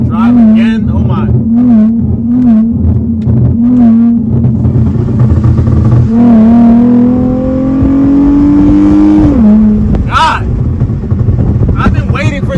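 A tuned car revs and accelerates hard, its engine note climbing steadily through a gear before dropping at a shift, loud and close from inside the cabin, with a later sharp burst of noise.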